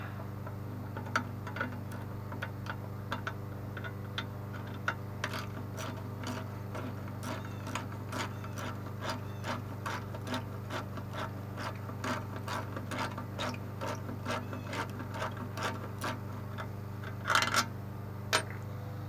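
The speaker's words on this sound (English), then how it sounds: "You're going to undo this bolt here, just go ahead and break it loose." A ratchet socket wrench with a 1/2 inch deep socket loosens a bolt on a Briggs & Stratton 500 series carburetor, giving a long run of steady, close mechanical clicks over a constant low hum.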